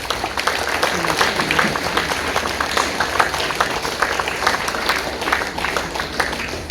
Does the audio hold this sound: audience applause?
yes